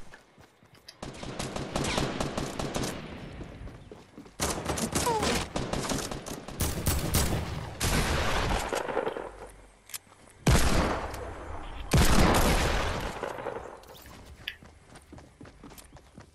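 Gunfire in the video game Fortnite comes in repeated rapid bursts of sharp shots separated by short pauses, with scattered footstep-like thuds between the volleys.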